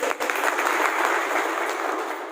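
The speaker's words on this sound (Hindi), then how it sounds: "और जितने भी नए गेस्ट हैं उनके लिए एक जोरदार ताली होनी चाहिए।" A crowd of guests at a Vestige business meeting in Guthani claps in welcome for new guests, a steady, dense wash of applause that holds at an even level for a couple of seconds.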